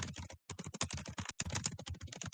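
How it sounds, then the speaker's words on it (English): Rapid, hard typing on a computer keyboard, close and crisp, with dense bursts of clacking keys broken by brief pauses. "She goes, Aggressive typing."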